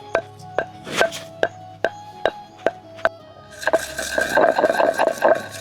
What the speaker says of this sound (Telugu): ఇప్పుడు 10 మసాలు దంచుకుందాం.